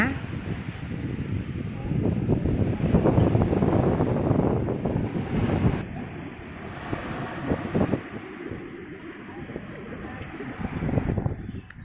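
A cool sea wind gusts steadily across the microphone on the Thai coast at Khung Kraben in Chanthaburi, with a broad continuous roar and faint surf beneath, loud throughout and dipping briefly midway.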